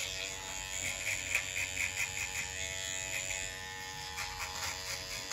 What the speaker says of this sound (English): See if I can knock out this edge up and the shaver.